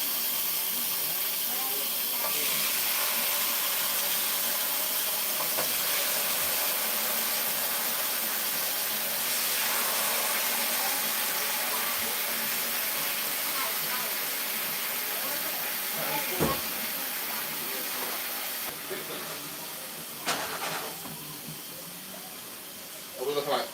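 Lamb chops laid in a very hot pan give off a steady, broadband sizzle and hiss that runs the whole time, with a few brief clatters near the end.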